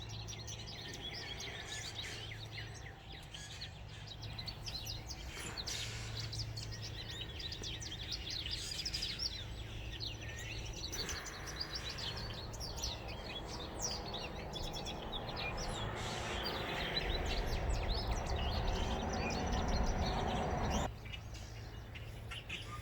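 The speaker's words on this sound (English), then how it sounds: "The birds are coming back." Small birds chirp and tweet outdoors near a backyard fire pit area, scattered bright calls repeating throughout over a low steady background hum, fairly faint and distant, with no talk.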